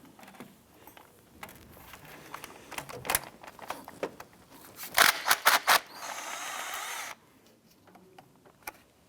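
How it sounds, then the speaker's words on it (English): Ratchet clicking as a 10 mm bolt is backed out of a 2004-2008 Acura TL engine during timing belt work, with bursts of close, sharp metallic ratcheting, a run of loud rapid clicks and a steady whir, then quiet taps. "Remove this 10 millimeter bolt right here"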